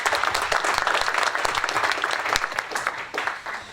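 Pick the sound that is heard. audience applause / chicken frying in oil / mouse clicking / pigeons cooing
audience applause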